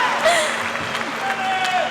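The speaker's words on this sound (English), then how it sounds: "let's give them all a round of applause" High school graduation crowd applauding, a steady wash of clapping across a large audience with scattered voices and a few whistles mixed in.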